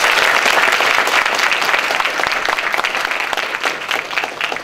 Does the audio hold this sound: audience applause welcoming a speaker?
yes